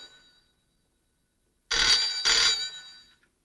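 A telephone bell rings twice in quick succession, loud and close, after a moment of near silence.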